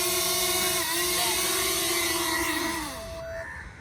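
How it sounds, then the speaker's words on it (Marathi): A small camera drone comes back down through fog to land, its rotors giving a steady, close, whining hum whose pitch shifts and then winds down toward the end, with no talking. "आपला ड्रोन आलेला आहे परत."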